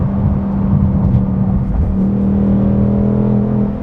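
A manual Ford Mustang GT with its 460-horsepower V8 accelerates with a deep, loud rumble heard close up, its engine note rising steadily as it pulls through a gear.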